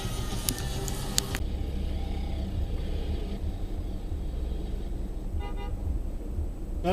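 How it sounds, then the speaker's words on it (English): Car horn in New York City traffic, a few short, sharp toots early on over a constant low road rumble, with a faint later beep. "You got honked at."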